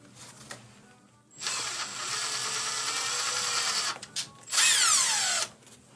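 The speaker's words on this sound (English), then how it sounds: "pre-drill the hole" A power drill bores a pilot hole through material in two whining bursts, the first a long steady run and the second a short rising spin-up, with quiet handling noise in between.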